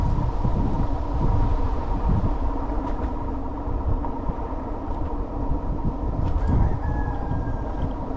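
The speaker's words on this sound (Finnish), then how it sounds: "Kukko huutaa." A rooster crows faintly in the distance, barely rising above a steady rumble of vehicle and road noise during an evening drive.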